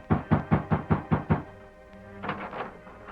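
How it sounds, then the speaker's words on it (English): Six sharp knocks rap on a ranch house door in quick, even succession, loud and close, followed by a soft low murmur and faint rustling. "dismounted, and rapped on the door"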